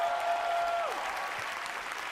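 Audience applause fills the hall at The Game Awards 2017, a steady, dense wash of clapping throughout, with a brief sustained electronic tone fading out near the start.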